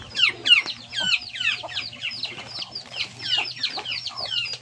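Chickens cluck in a rural farmyard with bursty, overlapping calls close by, some sounding bird-like and chirpy. A low steady hum runs underneath.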